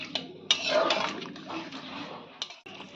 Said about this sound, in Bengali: এই সময় আমরা পরিমাণ মতন জল দিয়ে দিচ্ছি